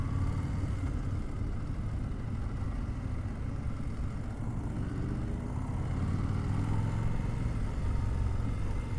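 A 2025 Indian Super Scout Limited cruiser motorcycle engine runs steadily at a low, rumbling idle with a slight rise in revs, close and continuous with no talk.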